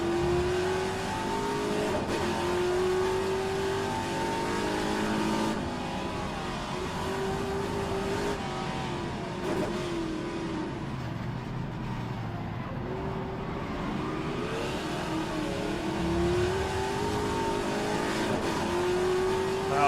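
Classic Trans-Am race cars at speed on the Adelaide street circuit, a steady loud engine drone with rising and falling revs as cars work through the corners, continuous throughout with no voices.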